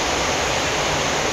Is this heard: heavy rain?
yes